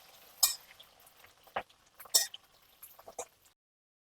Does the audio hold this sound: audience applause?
no